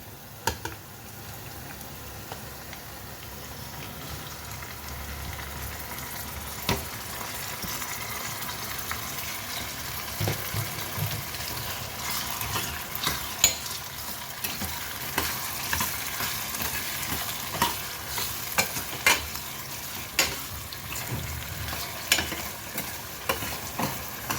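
Onions and tomatoes frying in a pan for drumstick sambar, with a steady close sizzle and repeated scraping taps of a spoon stirring throughout.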